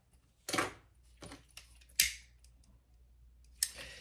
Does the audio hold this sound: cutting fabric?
yes